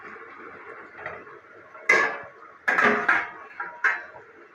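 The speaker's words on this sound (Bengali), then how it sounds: "এগুলোকে খুব ভালো করে মশলার সাথে মিশিয়ে নিতে হবে।" Vegetables being stirred with spices in a pan for Bengali voger labra make several sharp scraping, clattering bursts of a utensil against the pan, spaced out between quieter moments.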